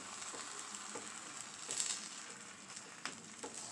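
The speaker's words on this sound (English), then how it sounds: "And I can hear the sizzling." Steady frying sizzle of a chicken quesadilla in a pan, with soft crackles and a few sharper pops, fairly quiet and close, no voices.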